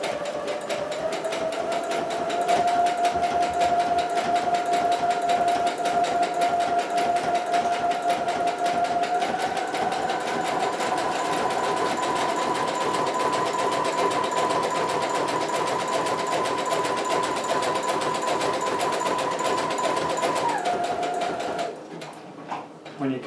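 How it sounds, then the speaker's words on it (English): A sewing machine runs continuously along the edges of cape fabric, a loud, close, steady mechanical whir that holds one pitch, shifts slightly partway through, and then stops near the end. "Make sure to lock the stitch at the beginning, and then just go straight down the edges."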